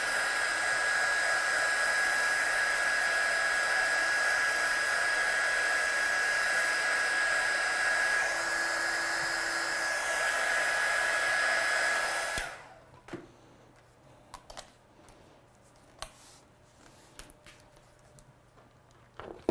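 A heat tool blows a loud, steady whir for about twelve seconds to dry a stamped watercolour card, then cuts off, leaving quiet handling taps and small rustles.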